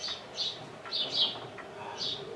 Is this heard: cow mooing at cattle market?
no